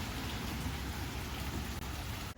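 Rain falling outside a kitchen on a fall day, a dense, steady hiss of drops with a low rumbling undertone, continuous and fairly loud with no voices.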